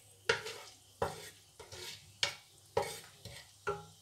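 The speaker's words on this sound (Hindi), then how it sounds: "साथ ही मैं प्याज डालूंगी। तेल हमारा गर्म हो गया है" Onions frying in hot oil in a pan, several sharp stirring scrapes at a regular pace over a soft sizzle, close and fairly quiet.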